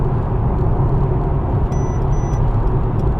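A car passes on the road beside a parked Mercedes-Benz AMG GT, a steady loud low rumble that holds evenly throughout with no voices.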